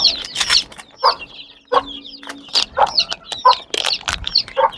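Chicks cluck and peep close by in a busy, irregular chorus of short high calls, with soft rustling and pecking between them.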